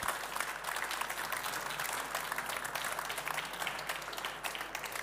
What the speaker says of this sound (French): Et pour remettre ce prix économique et sociétal, on peut les applaudir